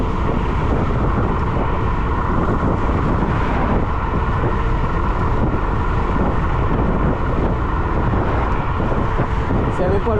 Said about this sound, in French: S'il n'y avait pas le vent, on a le vent de face là.